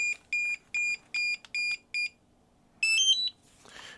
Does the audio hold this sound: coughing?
no